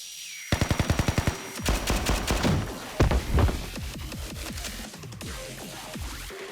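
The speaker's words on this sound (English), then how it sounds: "Grenades. Flashbang." Grenades and a flashbang go off in the video game Blue Archive amid rapid bursts of gunfire, a quick rhythmic volley followed by heavy booming blasts and scattered shots, loud and close.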